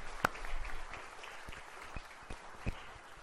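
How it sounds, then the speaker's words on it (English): A church congregation gives quiet, sparse applause during a Sunday service, with a few distinct claps standing out over soft, distant patter. "Let's give them a round of applause"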